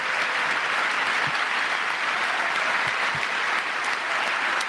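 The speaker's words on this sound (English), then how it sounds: "Gotta clap for that." An audience at a political speech breaks into steady, full applause, a dense wash of many hands that stays loud and even from start to finish, with no clear voices over it.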